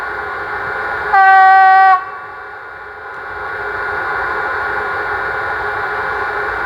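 A model Class E1 / 193 Vectron electric locomotive sounds a sharp, tonal horn for under a second over a steady electric motor hum that drops away, then gradually builds again.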